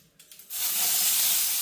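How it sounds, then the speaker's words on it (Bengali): An egg frying in a pan with onion and chili gives a sudden loud sizzle that starts after a brief quiet moment and holds steady and close to the end. "আমার ডিম ভাজা স্পেশাল ডিম ভাজা দেখেন"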